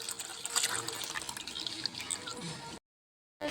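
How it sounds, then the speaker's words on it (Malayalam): Homemade sugarcane juice poured through a strainer gives a steady close splashing, trickling stream of liquid for nearly three seconds, then stops. "നമ്മുടെ നീര് നമുക്ക് ഒന്നുകൂടെ ഒന്ന് അരിച്ചെടുക്കാം അരിപ്പ വെച്ച്"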